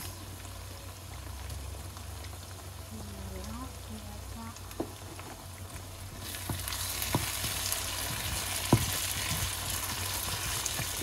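Diced mixed vegetables tipped into a sizzling sauce for Senegalese chicken rice, a steady frying hiss that swells louder partway through, with light stirring clicks and taps.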